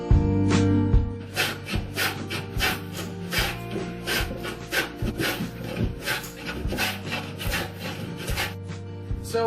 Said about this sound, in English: there's something just really satisfying about planing down this bench again